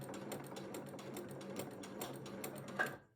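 A sewing machine runs steadily, stitching a quilt-as-you-go block with a fast, even mechanical chatter that carries alone and stops abruptly at the end.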